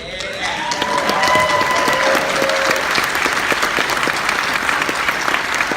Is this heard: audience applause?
yes